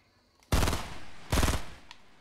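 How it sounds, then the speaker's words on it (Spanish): Two loud bursts of rapid automatic gunfire in Fortnite Battle Royale, the first starting about half a second in and the second about a second later, each a dense crackling volley with quiet gaps around it. "le estaba disparando a alguien, parece"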